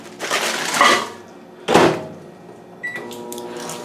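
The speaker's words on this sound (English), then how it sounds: "broccoli in the microwave, 5 minutes" Kitchen sounds: a couple of sharp knocks and clunks like a microwave oven door shutting, followed by a faint humming tone with a beep-like ring as it starts heating broccoli.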